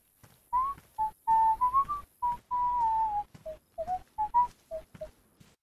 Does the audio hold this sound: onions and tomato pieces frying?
no